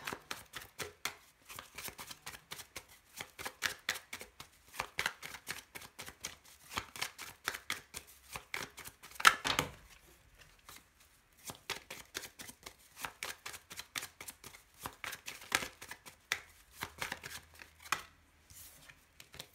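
A tarot card deck is cut and shuffled by hand. Quick, dense bursts of riffling card flicks and soft slaps repeat in rapid clusters with short pauses between them. The sound is close and fairly quiet, with no talk.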